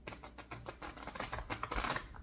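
Rapid, quiet papery riffling of cards being shuffled, a quick flurry of soft ticks in close succession.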